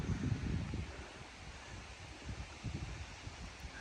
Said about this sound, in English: it's windy and the rain's kind of coming in at an angle.